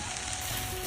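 Cumin seeds sizzling in hot oil in a home kitchen, a brief, dense, close-up crackle at steady loudness.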